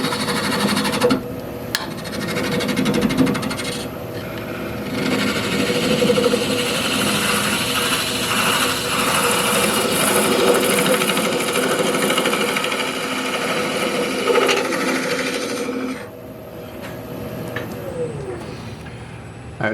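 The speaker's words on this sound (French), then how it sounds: "ma gouge frotte sur le fond" A wood gouge on a lathe hollowing end grain produces a steady, loud grinding scrape with a machine hum beneath, running almost continuously with brief dips before easing off near the end.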